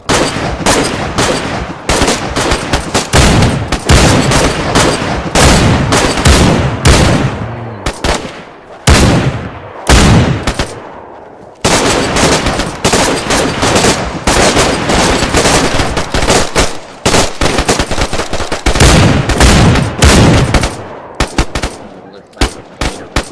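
Loud, sustained gunfire in a shooter game, long rapid automatic bursts broken by brief gaps, dominating the mix with only faint voices underneath.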